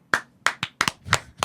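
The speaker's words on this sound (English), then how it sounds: "Even Arno's clapping" Sharp, close hand claps from a single person, spaced unevenly with a few quick doubles, each crisp and distinct against a quiet background.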